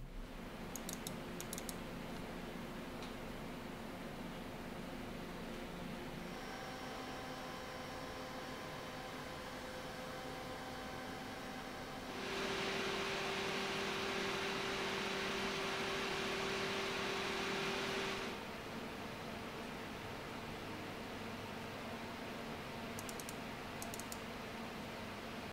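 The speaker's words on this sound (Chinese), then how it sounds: "我这里先给各位分享各款散热器风扇的满速噪音表现" Noctua NH-D15 G2 and other CPU cooler fans running at full speed, a steady broadband whoosh with faint tonal hum, one stretch markedly louder and hissier before settling back, no talk.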